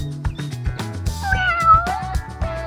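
A homeless kitten gives a brief, high mewing call in the middle, set against a rhythmic musical backing that runs throughout.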